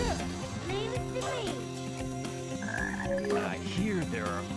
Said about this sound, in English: I hear there are frogs here in the jungle that can summon rain.